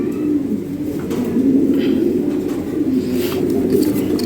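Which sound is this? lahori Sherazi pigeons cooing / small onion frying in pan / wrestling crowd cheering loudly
lahori Sherazi pigeons cooing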